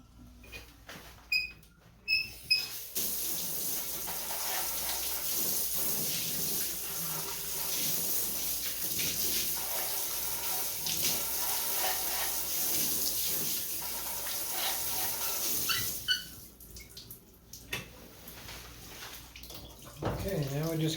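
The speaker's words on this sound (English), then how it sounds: "you want to run a lot of water and then rinse out your area after it all drains out" Running water from a tap rinses acid etch residue off a mirror, a steady loud broadband rush lasting most of the span with brief clattering handling at the start and near the end.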